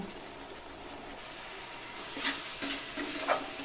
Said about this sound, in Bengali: মশলাটা দিয়ে আবার একটু নেড়ে চেড়ে ভালোভাবে এটাকে কষিয়ে নেব